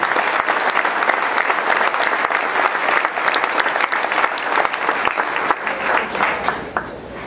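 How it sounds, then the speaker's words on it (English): An audience at a barbecue competition awards ceremony claps in a sustained, crisp round that thins and fades near the end, with no speech over it. "One more round of applause."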